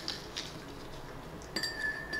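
Light clinks of a metal spoon stirring tea in a glass, a few scattered taps and then a brighter ringing clink near the end, quiet against a soft room background.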